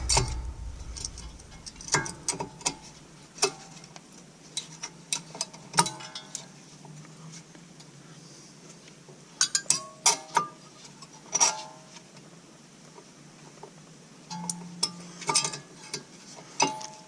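A car brake pad is slipped and wiggled into its caliper during a disc brake install, giving scattered metallic clicks, scrapes and small clanks at close range, irregular and quiet between bursts.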